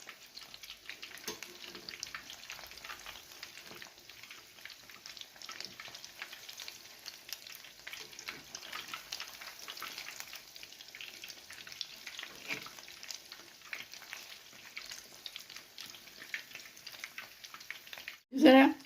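Cheese balls frying in hot oil and stirred gently from below make a soft, continuous crackling sizzle with faint stirring, ending in a brief louder knock.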